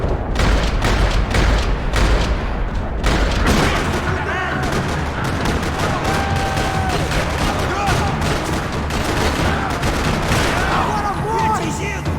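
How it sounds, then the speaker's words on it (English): Rapid gunfire rattles through a parking lot in the Max Payne 3 video game, dense bursts and booming shots crowding the first few seconds before thinning into scattered fire amid echoes and debris. "Another parking lot rattling with gunfire."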